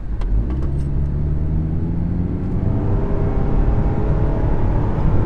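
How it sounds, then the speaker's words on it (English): Scion car accelerating on a quarter-mile run, heard from inside the cabin as a loud, steady low engine drone that builds gradually with road rumble. "So we're gonna hop in the Scion real quick and we're gonna see what this unit could do."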